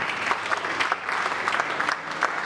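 A church congregation applauds at a pastor's birthday celebration, a dense, continuous patter of many hands clapping at moderate distance throughout.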